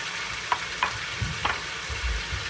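Grated onion sizzles in a pan with chicken and potatoes, the steady frying hiss broken by a few stirring scrapes and clatters.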